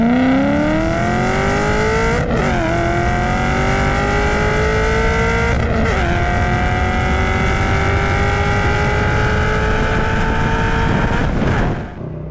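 A Camaro 1LE with a 6.2-liter LS3 pushrod V8 and manual transmission races hard, the engine note climbing steadily through each gear with two brief upshift breaks, loud and close throughout before dropping off at the end.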